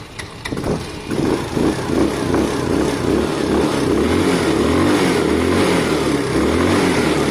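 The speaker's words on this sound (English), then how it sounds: "This bike is warm because I gave it a run and it's been idling for ages." A warm Sinnis Harrier 125 motorcycle engine fires up with a few sputters after choking, then settles into a loud, steady idle with a throbbing low rumble.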